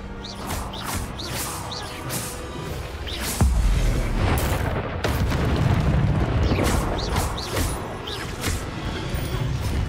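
An Expelliarmus spell cast in the video game Hogwarts Legacy lands as a heavy booming blast with crashing impacts, loud and up close, with further bursts trailing after it.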